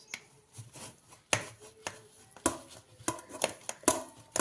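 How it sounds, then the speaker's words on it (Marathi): Poha (flattened rice) is being crushed fine for kurdai, giving a close series of dry, crisp crackling crunches in irregular bursts, some sharper and louder than others. "पोहे बारीक करून घेते"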